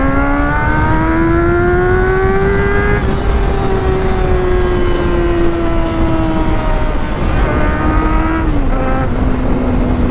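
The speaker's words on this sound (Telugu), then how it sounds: "ఎగ్జాస్ట్ నోట్ క్రేజీ ఉంది బైక్ది" A 1999 Honda CBR 600 F4 motorcycle engine, a 600cc superbike revving to about 14,000 rpm, gives a loud, close, sustained high-pitched exhaust howl that climbs, holds and dips slightly as the throttle shifts.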